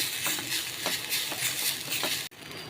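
A steady sizzle of grated coconut dry-frying in a pan, with rhythmic scraping strokes of a spatula stirring, ending in a sharp knock.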